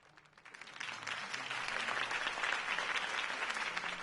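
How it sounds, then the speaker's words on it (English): A crowd in the video game Batman bursts into applause, the clapping building quickly from a few hands into a sustained, dense roar. "could have heard that applause"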